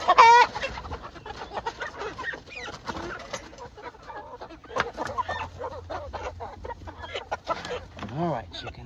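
Chickens in a mobile coop cluck and squawk continuously at close range, with sharp bursts and a rising squawk near the end, while a person talks quietly among them.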